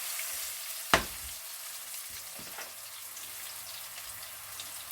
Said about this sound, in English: So let's just saute that for a while, maybe 10-15 seconds.